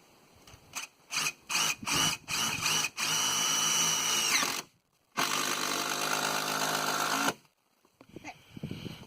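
A power drill drives ledger screws into a deck ledger board. Several short whirring bursts give way to two longer sustained runs, loud and close, and the pauses between them are quiet.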